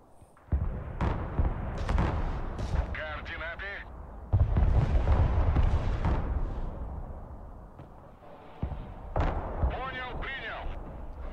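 Gunfire and artillery from the video game Broken Arrow boom and crack in repeated heavy blasts and rumbling impacts while a voice speaks over the combat.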